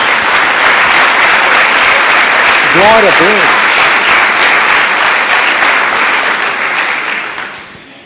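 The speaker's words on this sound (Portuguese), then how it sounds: "Dê uma salva de palmas a Jesus." A church congregation applauds loudly and steadily for several seconds, with a voice calling out briefly partway through before the clapping fades at the end.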